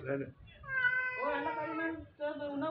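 A small house cat lets out close, drawn-out meows, rising and wavering in a whiny, caterwauling tone, with a brief pause before one more cry.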